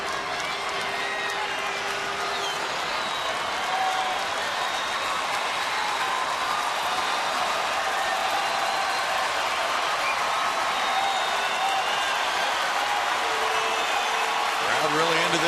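A baseball stadium crowd at a Rangers–Astros game makes a continuous loud roar of cheering and applause that builds slightly toward the end.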